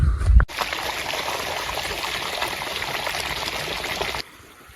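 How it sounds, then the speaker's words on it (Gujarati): Water runs steadily on a farm, a broad even rush that starts abruptly after a brief low thump, holds at a constant level for about four seconds, then cuts off sharply to quiet. "થઈ ગયું છે પાણી ચાલુ"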